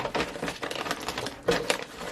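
A ton of crinkly packing paper rustling and crackling as a lucky bag is unboxed by hand, in close, uneven bursts with a louder crunch near the end.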